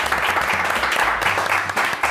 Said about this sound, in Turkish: Şöyle takalım bir alkış gelsin.